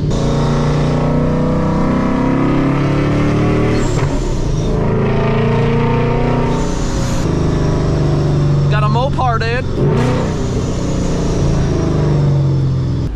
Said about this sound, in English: second gear downshift